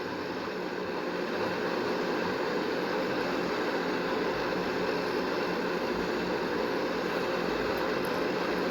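Steady, dense engine roar from an RL-42 airliner at an airport in a flight simulator game, a constant broadband drone holding at the same level throughout with no talk.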